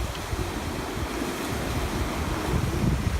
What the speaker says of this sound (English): It's the same waves as last night. Equally wavy, to be honest.